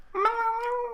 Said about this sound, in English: Dylan's cat's exploring my bag.